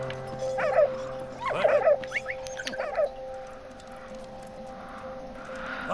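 A dog in the video game Valiant Hearts whimpers and yips in several short, high whiny bursts over a steady hum of game music, then falls quiet.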